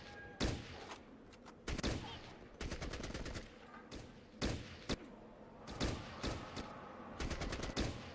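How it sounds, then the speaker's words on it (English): Repeated bursts of automatic gunfire and single shots from a firefight against enemies in a Fallout video game, loud and spread across the clip with a faint voice now and then. "let's start shooting these guys"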